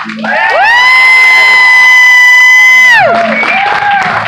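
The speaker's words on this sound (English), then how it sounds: "they can hear your round of applause" A loud crowd cheers, led by a long sustained whoop held for a few seconds, then breaking into mixed shouting and clapping.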